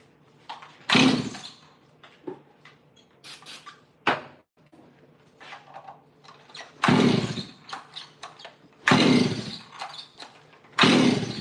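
A Stihl 026 chainsaw with a modified exhaust starts and runs unevenly with a fuel-line fault, giving several loud bursts of engine roar that die away between separate short pulls and clicks.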